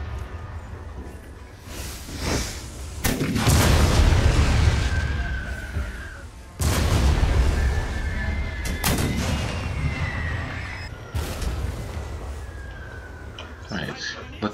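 Heavy artillery pieces fire in a World War 1 battle in Napoleon Total War with a German unit showcase mod, two loud booming volleys with long rumbling tails and a third sharper blast near the end, over continuous battlefield ambience.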